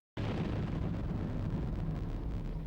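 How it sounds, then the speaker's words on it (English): Explosion in a Blake's 7 TV episode bursts in abruptly after a brief silence and carries on as a dense, sustained roaring rumble with no talk over it. "Whoa, big explosion."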